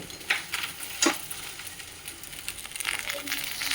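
Overripe bitter gourd pieces frying in a pan give a steady close sizzle with a few louder crackling bursts and soft stirring scrapes, with rain falling outside.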